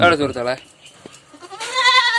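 Crossbreed goats on a Kerala goat farm bleat in a few short, close calls, the first around the start and a longer one near the end, with a brief knock in between and no talk.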